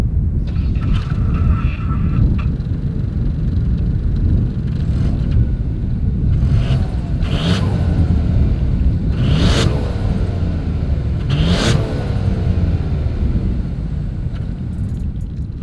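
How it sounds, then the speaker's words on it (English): A 2021 Ford Bronco Sport compact SUV with dual exhaust idles with a low, steady exhaust rumble, broken by several short revs that rise and fall, heard close up. "here is that exhaust clip"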